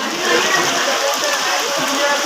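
Waist-deep night floodwater on a market main road sloshes and rushes in a loud, continuous wash, close and unbroken across the short stretch.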